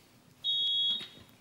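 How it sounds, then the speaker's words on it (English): Game show buzzer pressed during a song-guessing round on a TV panel show, a single steady high electronic tone lasting about half a second, loud and clear over faint background. "Oh, I pressed the buzzer."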